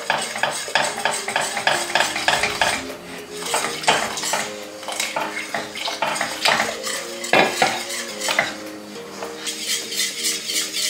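A spoon stirs cornstarch, condensed milk and milk in a pot, clattering and scraping against the metal in quick, uneven strokes, loud and close with no voices.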